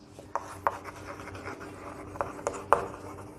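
A biology teacher writes on a board in a classroom, producing a few sharp tapping strokes and soft scratchy rubs at irregular intervals, close and fairly quiet, with no speech.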